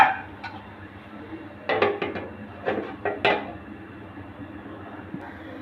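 Lid clanking on and off a cooking pot of potol (pointed gourd) curry, a few sharp metallic clinks and knocks close by in short clusters, with quiet stretches between.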